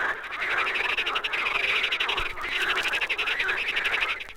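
Frogs croak in a pool, a dense rhythmic chorus of many voices pulsing steadily and fairly close, with no talk over it.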